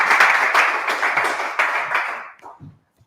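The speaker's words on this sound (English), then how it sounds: "Round of applause to Andrew Walker." Applause from a small audience at a serverless tech meetup in Sydney: dense, steady clapping that runs for about two and a half seconds, then thins to a few scattered claps and dies away.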